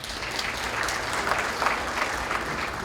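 Audience at a Haitian community partners gala in Boston claps in a steady, dense round of applause, moderately close, with faint murmuring underneath.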